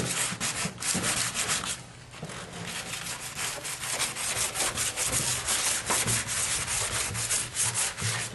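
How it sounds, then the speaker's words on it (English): Close, continuous rhythmic scratching of sandpaper rubbed back and forth by hand over a painted surface, with a short pause partway through. "So what you do is you do light sanding over the paint here."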